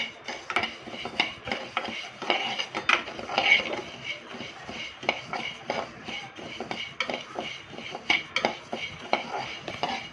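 Toor dal slowly roasted in a pan for traditional kandi podi, with continuous rhythmic scraping and rattling as a spoon stirs the dry lentils against the metal, close and steady with no talk.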